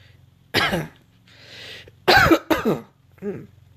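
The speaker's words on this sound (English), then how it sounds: "sorry about the cough." Several harsh coughs close by, one burst, then a pair in quick succession and a softer final cough, with a brief breathy pause between.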